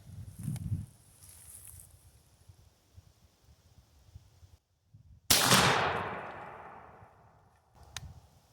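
A single loud shotgun blast from a turkey gun firing Winchester Long Beard XR 3-inch #4 shells through a Stoeger turkey choke at a 40-yard pattern target outdoors, sharp report with a long decaying tail, preceded by quiet rustling.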